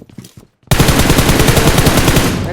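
Loud, dense automatic gunfire from a PUBG Mobile tournament match, a rapid sustained burst starting abruptly after a brief quiet moment with faint sounds, firing continuously to the end.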